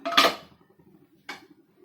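A metal cake tin holding carrot cake is set into a pressure cooker: one sharp metallic clank, then a lighter second clink about a second later, both close and otherwise quiet.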